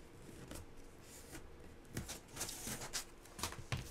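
Handmade paper folio notebook cover being folded over, with soft close-up rustles and crisp crinkling snaps of paper, irregular and quiet, no talk.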